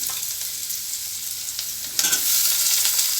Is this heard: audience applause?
no